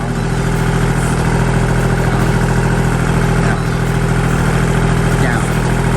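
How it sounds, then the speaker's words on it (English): A farm tractor engine idles steadily and loudly nearby, a constant low rumble running the whole time under a person speaking. "Dad's gonna show me how to drive the tractor."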